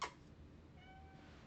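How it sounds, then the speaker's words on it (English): A house cat gives a single faint meow from a distance in a quiet room, a thin drawn-out call against low background hiss. "He's meowing, but he's not coming over here."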